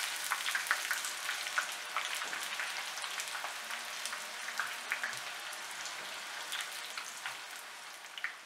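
Second batch of chatpate bites namakpare deep-frying in hot oil, a steady crackling sizzle with dense tiny pops, fairly soft and continuous with no voices.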